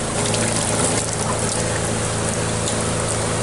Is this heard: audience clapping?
no